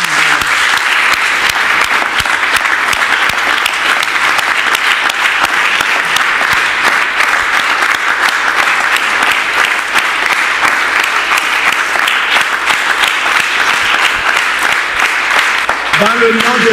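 A church congregation at a Sunday service applauding: steady, dense clapping from a large crowd, sustained and loud for over fifteen seconds with some voices mixed in.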